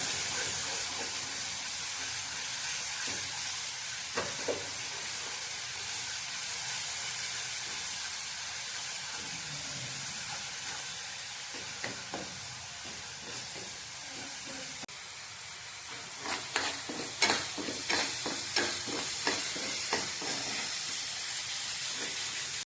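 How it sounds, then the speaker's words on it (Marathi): Masala roasting in hot oil for a Maharashtrian mandeli fish curry, a continuous soft sizzle and hiss with scattered crackles and stirring clicks, busier toward the end. "तेलात चांगला भाजून घ्यायचा आहे मसाला"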